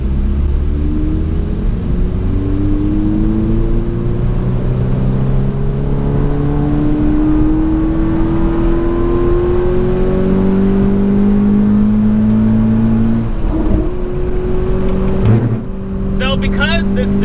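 A 2020 Toyota 86 TRD Handling Package accelerating hard on a race track, its engine revving loudly and climbing in pitch through repeated gear changes, heard close from inside the car.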